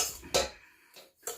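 Sugar for an apple cake is stirred in a bowl, giving three quick, faint scraping clinks of a utensil against the dish, close by.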